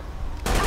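Gunfire in the video game GTA 5 during a street scramble around a gold-plated SUV taxi, a sudden loud burst of shots cutting in after a low rumbling engine bed.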